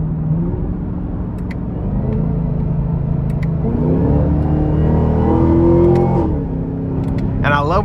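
A 2024 Chevrolet Camaro ZL1 convertible's engine in track mode, a deep, loud rumble that swells and climbs in pitch through revs, heard from inside the car with brief crackles near the end.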